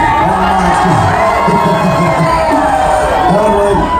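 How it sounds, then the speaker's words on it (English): Loud cheering from a crowd of tourists at a show in Ketchikan, Alaska, with sustained shouting, whoops and children's yells in a constant roar. "feel free to cheer as loud as you want"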